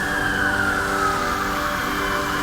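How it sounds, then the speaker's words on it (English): A fire engine or ambulance siren wailing through noisy London streets, its steady descending tone sounding over a dense rumble of traffic, fairly loud and continuous. "Fire engines, ambulances."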